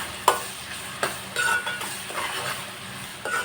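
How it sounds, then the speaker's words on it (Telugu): Onions frying in a pan with a pinch of salt for a fish curry, a soft steady sizzle punctuated by a few sharp clinks and scrapes of a utensil against the pan, no voices. "ఉల్లిపాయలు బాగా వేసుకుందాం."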